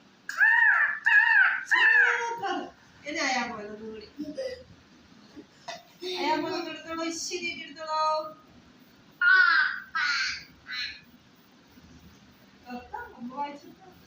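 A person, sounding like a child, imitates a crow with several harsh caw sounds, mixed with playful babbling and other voice noises.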